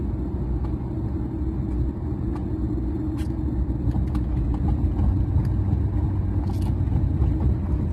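Steady low road rumble of a car driving into town on a cloudy day, a continuous hum of engine and tires with occasional faint bumps, close and even throughout, no talking.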